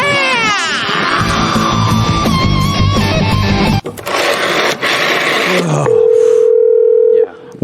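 Telephone keypad dialing to reach voicemail on a gun shop show, with busy tonal beeps and a mechanical whir over other sound, ending in a long steady dial tone near the end.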